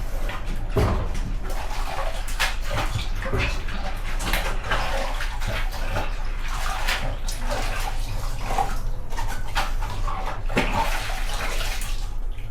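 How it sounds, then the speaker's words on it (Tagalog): Water runs steadily and splashes as Crocs shoes are rinsed, a continuous close rush of flow with brief clatter, and a dog whimpers faintly in the background. "Banlawan natin."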